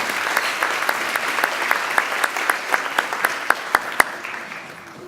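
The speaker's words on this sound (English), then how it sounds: "Please give Ashley a round of applause." A dinner audience at a Western Oregon University Thanks*Giving 2015 event claps steadily for about five seconds, a dense, close round of applause with a few sharper individual claps standing out before it fades slightly.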